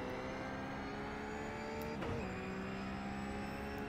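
A RUF race car's engine in a VR racing game drones with a steady, close tone, its pitch dipping sharply for a moment partway through before settling back into a constant whine.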